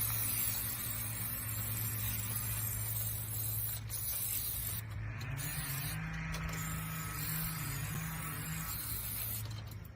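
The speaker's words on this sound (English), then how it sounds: "So I just got some yellow spray paint." A steady, continuous hiss of a yellow spray paint can spraying a hanger, close by, lasting throughout with a faint mechanical hum underneath.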